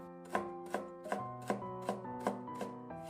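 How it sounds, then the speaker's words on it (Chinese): Steady knife strokes slicing a washed carrot into thin strips on a cutting board, eight evenly spaced crisp chops about every half second, close and clear over a soft background hum. "1根洗干的胡萝卜，先给它切成薄片， 再改刀切成细丝"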